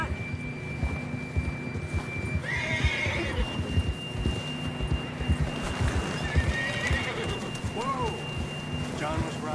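A horse neighs in a video game set outdoors, with a whinny rising partway through and another later, amid steady ambient background noise and clip-clop hooves, under occasional talk.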